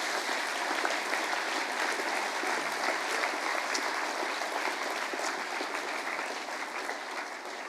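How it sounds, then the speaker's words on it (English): A school assembly audience breaks into sustained, dense applause, steady and fairly loud throughout, with no speech over it. "Can we give those a big round of applause also?"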